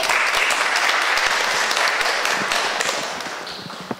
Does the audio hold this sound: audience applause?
yes